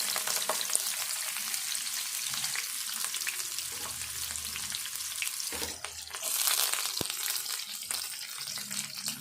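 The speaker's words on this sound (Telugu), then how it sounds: "ఇప్పుడు ఉల్లిపాయలు వేసుకుందాము" Onions frying in a garlic tempering for cauliflower curry, a steady close-up sizzle and crackle of oil with occasional stirring scrapes, with no voices.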